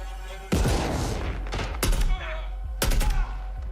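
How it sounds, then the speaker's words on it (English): Video game trailer gunfire in dense, loud bursts of rapid shots and heavy thumps, with sharp separate cracks breaking through a constant rumble of battle noise. "Oh, and the guns always sound amazing."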